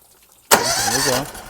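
A pressure washer's gasoline engine fires up abruptly after silence and settles into a loud, steady running roar close by.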